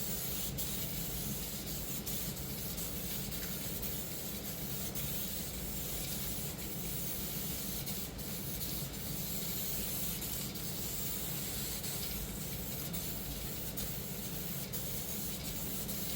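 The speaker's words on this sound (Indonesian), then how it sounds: "Untuk penyemprotan Grigio Titanio akan kita semprot 2 lapis." Steady, continuous hiss of Diton Premium aerosol spray paint in Grigio Titanio being laid down as a thin, even first coat, running close and unbroken from start to finish with no voices.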